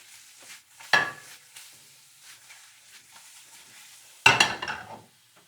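Mushrooms coated with garlic powder fry in a pan under a soft, low sizzle, broken by two louder scraping stirs with clinks of a utensil against the pan, close and without talk.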